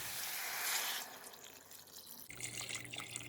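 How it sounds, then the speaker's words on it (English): Water runs from a tap into a pot of cooking meat with peppers, onions and juices, a steady splashing pour that shifts in tone partway through as the level rises. "we're gonna add enough water to make sure that the meat is covered."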